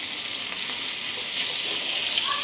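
Egg frying in a pan with kohi while it is stirred, a steady continuous sizzle that runs throughout, fairly close with a few faint scraping touches and no talk.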